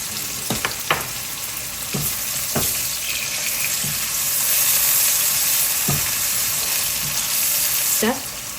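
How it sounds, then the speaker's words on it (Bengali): Onions frying with a little salt to soften them, a steady close sizzle that swells in the middle, broken by several sharp scraping and clanking strokes of a spatula against the pan. "পেঁয়াজটা একটু নরম হওয়ার জন্য দিয়ে দিচ্ছি সামান্য একটু লবণ"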